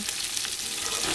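Chopped onions sizzle and fry in a hot pot as the base for beef bourguignon, a steady close crackle filling the short moment with no talk.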